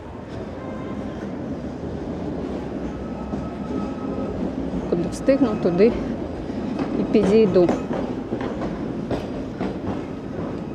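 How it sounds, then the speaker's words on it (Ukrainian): A tram rolls along a street in Odesa with a steady rumble, wheel clatter and brief squeals building in the middle, while someone talks over the passing traffic. "Трамвайчик продовжує йти."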